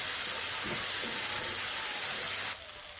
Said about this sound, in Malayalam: ഇനി നമുക്ക് ചെറുതായിട്ട് ആ എണ്ണയിലൊന്ന് മൂപ്പിച്ചെടുക്കണം